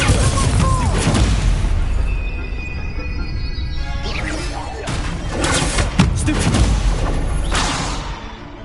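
Confringo spell blasts in Hogwarts Legacy, a series of loud booming explosions and crashes with rumbling tails, several bursts in quick succession mixed with game effects.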